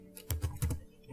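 Password being typed on a computer keyboard, a short burst of several quick, close keystrokes clacking in an uneven rhythm with no talking.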